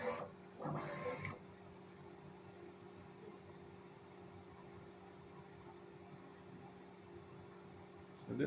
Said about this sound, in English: So this will be my official first print with PLA.